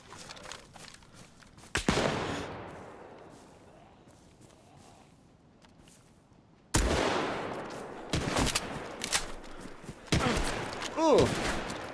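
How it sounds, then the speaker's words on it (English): Gunfire in DayZ aimed at a lone player, with sharp shots cracking from a distance, some close loud bursts and a quieter stretch between, and a voice talking over parts of it. "What are they shooting me with from that range?"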